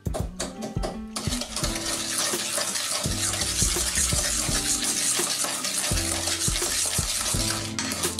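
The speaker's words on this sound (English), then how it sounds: "And then drop the other egg in. And stir it in." An egg being stirred into a batter mixture in a bowl: a close, continuous wet sloshing and scraping, with a few sharp knocks of the utensil against the bowl at the start and no talking.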